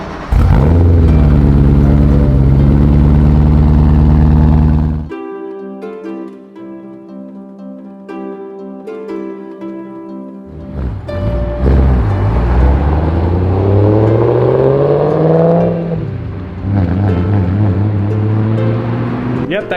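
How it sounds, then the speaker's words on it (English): A Subaru FRS car engine with lowered air suspension roars loudly at close range, drops away, then revs up hard again with rising and falling pitch. "Yep, that car's loud. She's very loud."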